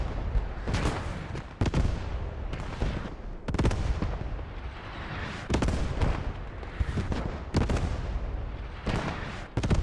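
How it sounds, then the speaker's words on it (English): Artillery bombardment in a tournament video game match, a series of heavy shell impacts landing in irregular succession, roughly ten loud booms with rumbling decay between them, no talk over it. "So we just had that artillery bombardment actually land south of the cap on the road where you said that MG was"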